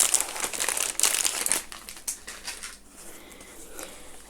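A knitting needle set case drawn out of a plastic bag, giving dense crinkling and rustling that is busiest at first and then thins to sparse, quieter crackles close by.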